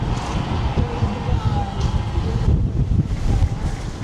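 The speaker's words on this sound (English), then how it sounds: "It is very windy up here right now." Strong wind roars steadily across the open deck of a cruise ship at sea, with broad buffeting gusts and rumbling low noise throughout.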